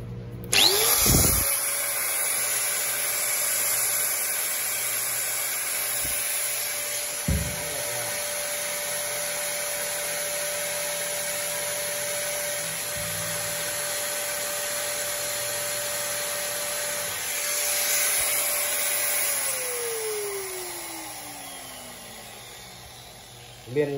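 A used DCA 220V electric power tool runs as a steady, loud motor whine with a buzzing hum. It starts abruptly and keeps running at an even speed, then winds down near the end.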